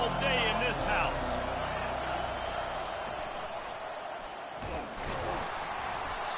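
Dense stadium crowd roar at a college football game between USC and Oregon, a steady loud wash of voices filling the whole stretch with a brief swell near the start and an announcer talking over it.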